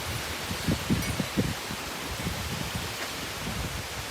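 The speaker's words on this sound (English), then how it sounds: "trees swaying like this in the wind, because I know that there's a hurricane coming" Strong gusting wind stirs outdoor plants and trees ahead of an approaching hurricane, a steady broadband rustle with a few louder bursts of leaf and branch movement, close and continuous with no talking.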